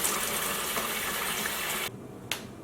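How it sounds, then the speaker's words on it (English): Running water rinses hand-dyed yarn in a steady, soft gushing stream that continues evenly, then cuts off near the end, followed by a small splash. "we'll continue rinsing and maybe adding more soap as necessary until the water runs clear"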